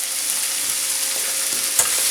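Onions fry in a hot pan with spices, giving a steady loud sizzle and crackle, with a brief sharper pop or stir near the end and no talking.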